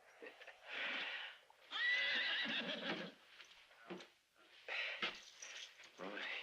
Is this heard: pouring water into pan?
no